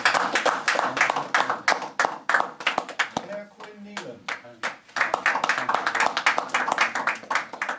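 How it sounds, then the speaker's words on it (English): A few hand claps sound between a man reading out names at a basketball training session, brief scattered clapping rather than sustained applause. "give him an applause there"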